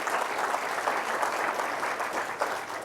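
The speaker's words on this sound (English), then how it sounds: "just give them a round of applause" Dense, steady audience applause at a company Diwali celebration, many hands clapping together at a loud, even level throughout.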